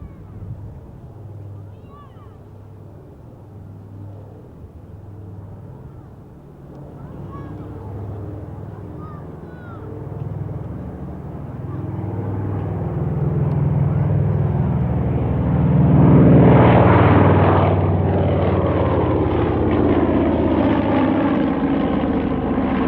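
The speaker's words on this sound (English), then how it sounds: "As the Catalina makes its final fly past the line of assembled Spitfires" Consolidated Catalina flying boat at the 1996 Duxford Diamond Jubilee airshow, propeller engines droning as it passes a line of Spitfires, growing louder into a rushing peak overhead before trailing off, with a commentator talking over it.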